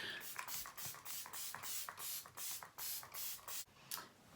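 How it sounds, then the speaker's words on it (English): A bottle of Lancome Fix It and Forget It setting spray is pumped repeatedly, giving about a dozen quick, soft hissing bursts in a steady rhythm, close and fairly faint. "I'm going to take my Lancome Fix It and Forget It setting spray"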